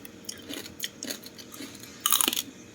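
Crunchy roast pork lechon being chewed close up, with soft mouth sounds and a louder burst of crisp crunching near the end; no talking.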